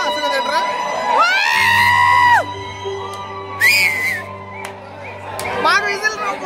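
Cinema theatre audience waiting for a film's title card, loud crowd yelling and cheering with shrill rising whistles and whoops in bursts, close and energetic, with a voice talking among them.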